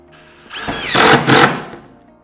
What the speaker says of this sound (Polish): Ustawiamy idealnie do komina i przykręcamy to na czas felcowania